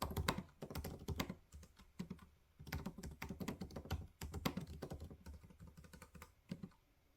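Steady, close-up typing on a computer keyboard while a novel is being written, with rapid irregular clusters of key clicks and brief pauses between bursts.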